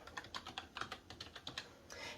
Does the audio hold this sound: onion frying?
no